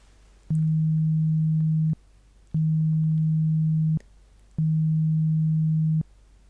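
Three short, identical pure beep tones from a hearing test sound in an even rhythm, each lasting about a second and a half with brief silent gaps between, clear and close against a faint background hiss.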